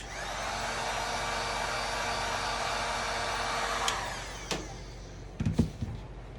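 A hot-air blower, used to heat and soften material before fitting buttons, runs as a steady loud whoosh for about four seconds, then cuts off, leaving a few faint clicks and handling knocks.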